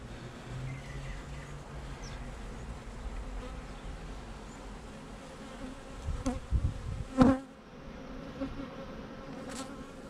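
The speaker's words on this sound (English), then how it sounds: "The bees are all sucking up that honey." Continuous buzzing of many honey bees on a comb close by, a dense droning hum with a few brief knocks and handling sounds partway through.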